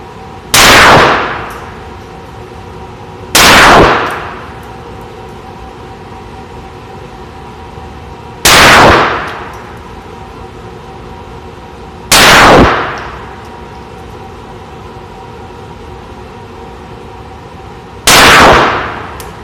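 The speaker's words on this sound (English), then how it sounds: "Let's shoot this thing." Five sharp, loud pistol shots from a Kahr CT-380 ring out at irregular intervals, each a close, hard crack followed by a brief decaying echo.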